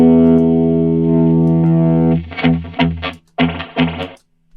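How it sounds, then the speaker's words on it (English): A sustained distorted electric guitar chord rings out, then several short strummed stabs follow, each trailing off with a splashy spring reverb tail. "and I've got my spring reverb here."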